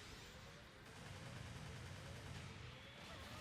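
Missile barrages in Gundam Battle Operation 2, a dense, steady roar of rapid firing and blasts that runs unbroken through the whole clip with no pause.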